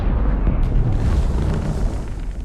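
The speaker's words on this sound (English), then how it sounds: "Was that an explosion?" Explosion in the Dune Awakening video game: a loud, deep booming blast with rumbling that fades slowly over a couple of seconds, no voices.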